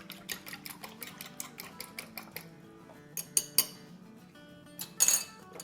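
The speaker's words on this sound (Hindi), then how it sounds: "इसको बस फेंट लेंगे अंडों को ज़रा सेपरेट" Eggs beaten separately in a bowl, a quick run of light clinking utensil strikes against the dish, then a pause and a few sharper taps, close and fairly quiet.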